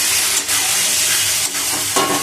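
Chopped bottle gourd dropped into a pan of hot, cooked-down spice paste for a prawn curry, a loud steady sizzle and hiss with brief dips as the mix is stirred, close and continuous.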